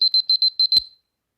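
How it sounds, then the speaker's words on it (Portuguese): An alarm rings in quick, shrill electronic beeps, mostly in pairs, loud and close, then ends with a sudden thump and falls silent. "desculpa se for alarme"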